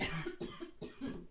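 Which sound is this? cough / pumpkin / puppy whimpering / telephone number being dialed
cough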